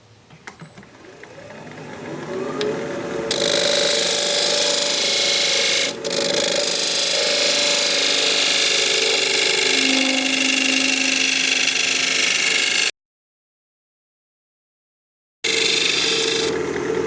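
Wood lathe turning an end grain bowl, a steady loud whirring drone with tool scraping that runs for about twelve seconds, cuts off abruptly, then resumes after a short gap.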